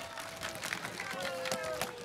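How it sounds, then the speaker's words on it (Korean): Studio audience at a televised amateur singing contest in Gwangsan-gu, Gwangju, clapping in a brisk, dense patter while music or a sustained tone plays underneath, moderately loud and continuous. "박수."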